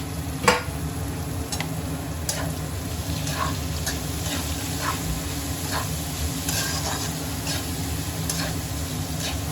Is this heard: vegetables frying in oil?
yes